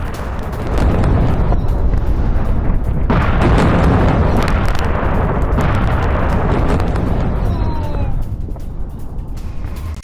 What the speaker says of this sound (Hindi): सेंट्रल इजराइल में मिसाइलें दागी गई हैं, रिहायशी इलाके में मिसाइलें गिरी।